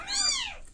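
A single short, high meow from a week-old kitten, close and clear, rising then falling in pitch and fading out.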